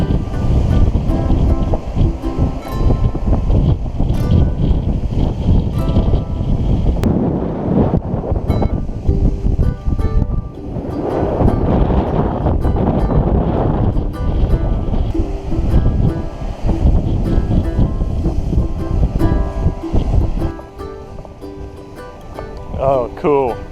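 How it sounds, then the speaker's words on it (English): Waves crash against the rocks at Warderick Wells in the Exumas, Bahamas, a continuous roar of surf and gusting wind across the microphone, with people talking throughout. "watched the waves crash into the rocks of Warderick Wells"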